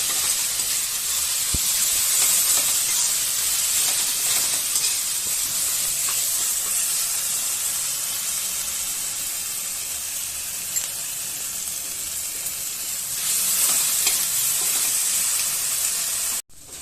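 Tomato frying in a pan with ginger and green chili paste for a vegetarian potato curry, giving a steady, close hiss and sizzle that runs almost unbroken before cutting off at the end.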